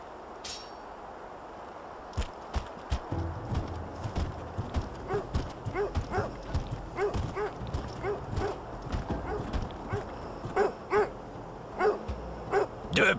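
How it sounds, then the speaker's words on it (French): Dog barking in the video game Orcs and Men, a run of repeated barks at a moderate distance, set against steady hoofbeat-like clip-clop and a faint ambient bed. "Ok, là il y a un chien."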